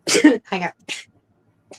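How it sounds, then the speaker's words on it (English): A person sneezes loudly close up in a quick burst, followed by a short phrase spoken under the breath. "There goes the sneezing."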